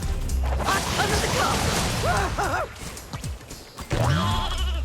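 Cartoonish sheep bleating in the Skylanders SWAP Force video game, several short wavering bleats among crashes and game effects, fairly loud.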